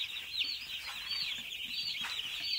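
Broiler chicks crowded together in a brooding shed, a steady high chorus of peeping and cheeping from many birds at once, continuous and fairly faint.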